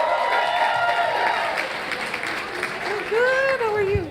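Audience at a Moth storytelling event in Ann Arbor applauding as a storyteller comes up, dense clapping and crowd noise throughout, with voices and a few whoops rising over the applause near the end.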